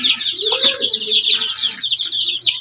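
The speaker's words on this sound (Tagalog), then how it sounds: "yung ating mga sisiw" Young chicks in a brooder peep and cheep in a busy, overlapping chorus of high, thin calls, close and continuous, with some lower clucking-like sounds mixed in.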